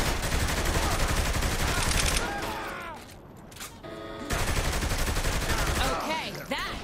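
Loud sustained gunfire erupts while enemies are shot in the video game Saints Row 3, with rapid bursts that fade briefly midway and then return, as voices talk over it.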